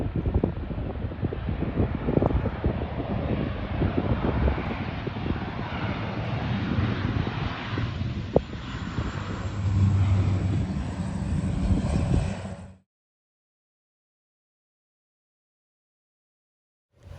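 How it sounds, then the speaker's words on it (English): A water-scooping firefighting aircraft roars close by off the Mediterranean coast of Spain, its engine drone loud and steady for about twelve seconds over buffeting wind before cutting abruptly to silence. "watching the pilot practice his takeoff, scooping and dumping maneuvers"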